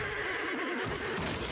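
A loud, close horse whinny in the video game Black Myth: Wukong, with a wavering, trembling pitch, set against a steady background of game ambience.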